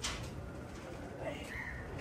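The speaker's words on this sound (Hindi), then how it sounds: "41 नंबर कबूतर है।" A pigeon, a racing bird, gives a soft coo, faint and close, heard under a man's nearby speech with low background noise.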